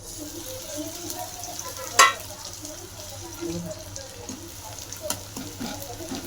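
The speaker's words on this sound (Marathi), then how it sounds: "तेल गरम करून घेतलंय आपण सुकट टाकून घेऊ" Dried shrimp (sukat) frying in hot oil, giving a continuous moderate sizzle with a sharp clatter near the start and a few later taps of stirring.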